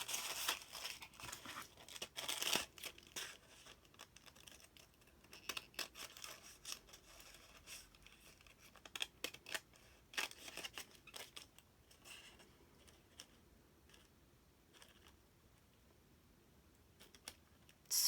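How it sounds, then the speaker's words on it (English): An old pair of scissors cuts paint chip sample cards for crafting. Close, crisp snips and clicks come in uneven bursts, with soft paper rustling and quieter stretches between, and no talking. "They're an old pair of scissors."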